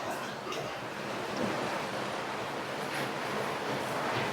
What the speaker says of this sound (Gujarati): મસ્ત આવ્યો ને વરસાદ.